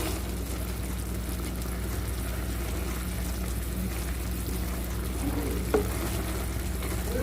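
Bread gulab jamun frying in hot oil, a continuous close bubbling sizzle with soft crackle throughout and a single brief clink near the end.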